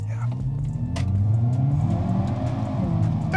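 Hyundai Kona N engine revving hard through downshifts, with rising and falling mid-pitched engine tones and throttle blips from inside the car, loud and continuous.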